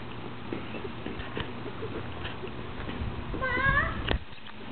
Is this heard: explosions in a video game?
no